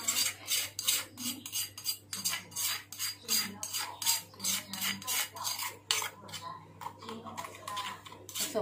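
Pork ribs being hand-mixed with freshly pounded garlic and pepper give a steady run of close, wet scraping and squelching strokes in a quick, uneven rhythm, with faint talk in the background.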